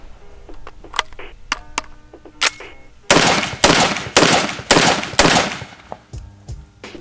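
A 12-gauge semi-automatic AR10-style shotgun fires Estate double-aught buckshot in a rapid string of about six loud, booming shots after a few quieter clicks and handling sounds.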